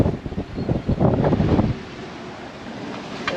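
Strong wind of about 21 knots rushes over a reefed-down sailboat moving at 5 to 6 knots, a loud blustery roar with gusty buffeting that eases into steadier, softer wind noise with no talk.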